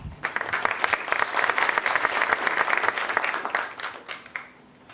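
Audience applause at an international forum, a dense steady clapping from a crowd that swells and then fades out near the end.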